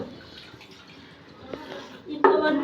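Water with algae in it is poured out, a soft trickling and splashing that grows louder toward the end, with a few drips along the way.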